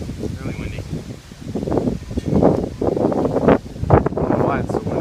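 Strong gusty wind buffeting a microphone outdoors beside a racing mower, surging and rumbling in uneven waves with rustling through trees, loud and close throughout.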